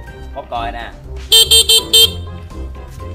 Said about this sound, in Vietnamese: Bóp còi nè.